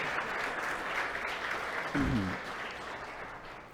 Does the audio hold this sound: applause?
yes